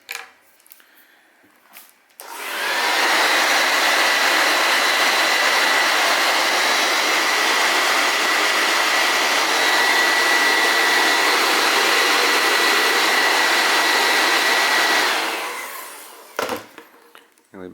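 Heat gun warming a part of an iPhone during repair, a steady loud airy roar that starts abruptly, holds for about twelve seconds close by, then cuts off, with brief handling noises around it.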